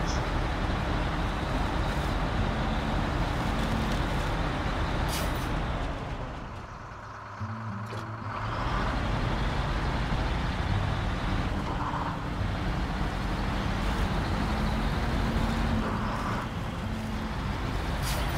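A Zikz 566A truck drives in a cargo-hauling video game, a loud, continuous rumbling engine and road noise that dips briefly midway before resuming its heavy drone.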